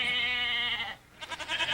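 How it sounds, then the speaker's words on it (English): A sheep bleating sound effect used as a transition: one sustained, quavering bleat, a brief gap, then a few shorter pulsing bleats, all close and clear with no talk. "check out the sheep transition. Sheep!"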